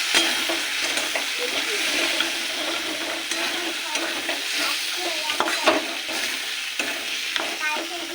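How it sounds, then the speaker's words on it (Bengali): Spices with salt, turmeric, cumin and chili powder sizzle and fry alongside a fish head for mung dal, with a spoon scraping and stirring steadily in the pan, close and continuous, no talk. "এবার কষিয়ে নিই।"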